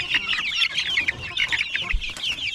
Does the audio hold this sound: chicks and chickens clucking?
yes